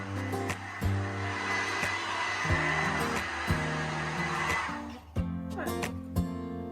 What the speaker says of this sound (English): When she finally shut that hairdryer off